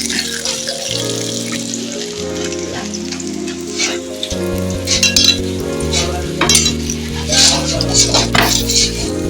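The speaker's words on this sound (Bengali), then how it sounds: "উল্টে পাল্টে এইভাবে ঘুরিয়ে ঘুরিয়ে আমি ভেজে নেবো" A peta paratha sizzles and fries in oil in a pan as it is turned over and pressed, giving a steady crackling hiss with occasional utensil clinks under background music.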